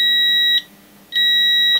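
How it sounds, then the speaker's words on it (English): Two steady, high-pitched electronic beeps from a continuity tester bridging two contacts on audio channel strip hardware, separated by a short gap, loud and close. "bridging these 2 together and hearing it beep"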